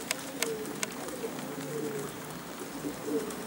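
Pigeons from an old Greek breed from Karditsa give soft, low cooing calls, several short rolling coos at moderate distance over a quiet background, with a few faint sharper sounds early on.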